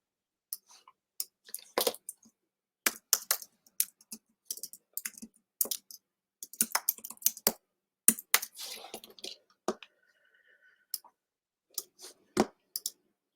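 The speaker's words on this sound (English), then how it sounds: "I'm going to type in some text at the top" Text is typed on a computer keyboard in close, crisp bursts of key clicks separated by short silences, with no talking.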